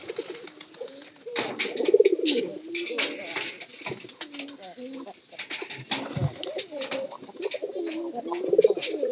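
Pigeons in a loft coo repeatedly in soft, low rounded calls that rise and fall through the whole stretch, close by, with rustling and a few sharper bird sounds mixed in.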